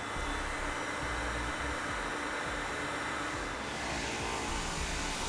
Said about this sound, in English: We're just going to take a heat gun.